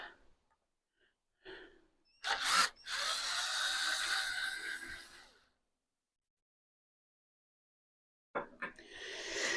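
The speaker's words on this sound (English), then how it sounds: "we've got the drill. I'm going to get this little plate taken off." A power drill removing screws from a small plate on a Palmgren 2x42 belt grinder whirs close by for about three seconds, then stops, with short bursts of handling noise before and after.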